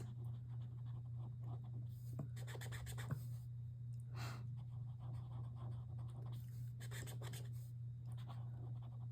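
Colored pencil rubbed across paper with the lightest shade to blend away pencil marks, a soft scratchy scribbling in short bursts over a steady low hum, close and quiet.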